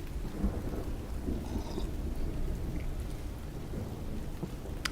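Thunderstorm ambience made for a factory video game biome: steady rain hiss with low rumbling thunder rolling beneath, continuous and fairly even in loudness throughout.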